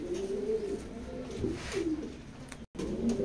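Pigeons in a loft coo repeatedly in low, rolling phrases, close and fairly loud, with a brief dropout near the end.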